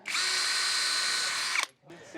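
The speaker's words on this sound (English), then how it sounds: "I'm going to pre-drill the first 2 holes to help me get this lined up" A power drill pre-drills holes in a wooden batten strip on a shed, giving one loud, steady whir of about a second and a half that cuts off abruptly, then a brief restart.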